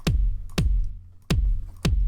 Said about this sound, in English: So that's a nice weighty, thick kick